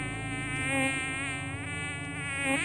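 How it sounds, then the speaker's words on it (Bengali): Insects such as crickets chirp and buzz steadily at dusk in a Bengali radio-drama scene, a dense continuous trill that holds for the whole moment with slight swells, and no one speaks over it. "একদল ঝিঁঝি পোকা সন্ধ্যার আসরের জন্য যন্ত্র সুরে বাঁধছিল।"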